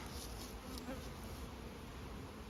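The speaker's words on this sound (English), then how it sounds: "That is all my hive's entrance reduced. They don't particularly like it, as you can see." Honeybees buzz at a hive with a reduced entrance, a dense continuous hum of many insects, close and steady throughout.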